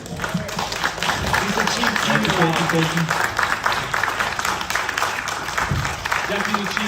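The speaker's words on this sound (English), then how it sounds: "can we give Mr. Deskins a round of applause?" An audience at a Gulfport, Florida hurricane preparedness seminar applauds, dense steady clapping filling the room while a speaker's voice carries over it.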